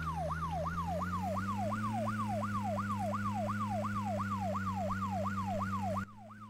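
An emergency vehicle siren in the video game Broke Protocol wails in a fast, steady up-and-down yelp over a constant engine drone, continuous and loud before cutting off abruptly near the end.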